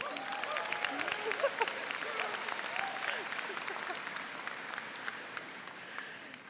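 Convocation audience at the Moose Jaw campus ceremony applauding, a sustained wash of many hands clapping with a few cheers and voices mixed in, slowly fading toward the end.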